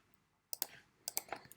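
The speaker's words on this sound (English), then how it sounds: "type in my name in capital letters" Typing on a computer keyboard: a few quiet, quick clicks in two short bursts separated by a brief pause, close and faint with no voices.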